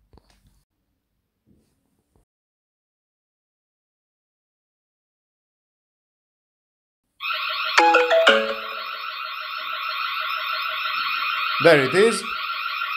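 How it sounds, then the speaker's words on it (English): A TP-Link Tapo H200 smart hub sounds its alarm, a loud continuous electronic ringtone that starts abruptly after several seconds of near silence. A brief spoken phrase comes just before it begins. "Sound alarm from the hub."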